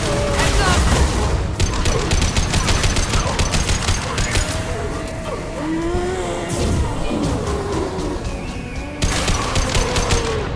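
Assault rifle fire in the Mass Effect 2 Legendary Edition game, rapid automatic bursts crackling loudly up close, easing into a quieter stretch of scattered shots and tones before another loud burst near the end.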